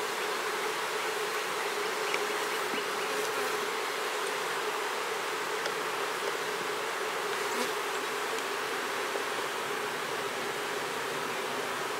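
Honey bees from an open, queenless hive hum steadily at close range, a dense continuous buzz at an even level with no voices.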